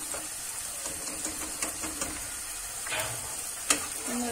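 Eggplant slices fry in oil in a pan for Turkish moussaka, giving a steady close sizzle with occasional clicks and stirring sounds, no talking.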